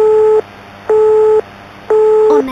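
A telephone handset on a cut line in a horror video game sounds a loud busy tone: three evenly spaced beeps, each about half a second with pauses between, close and alone.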